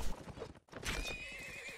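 Horse hooves at a jousting competition clop in a quick rhythm, followed by a horse's whinny rising over the noisy arena.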